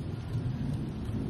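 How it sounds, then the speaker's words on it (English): Low, continuous rolling thunder outdoors ahead of rain, a loud steady rumble filling the whole moment without any voices. "Thunder rolls"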